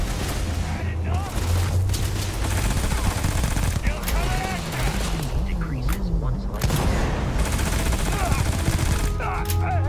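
Enemy gunfire in the video game Starfield: bursts of rapid shots and booms over a constant low game rumble, with brief electronic tones and effects between volleys.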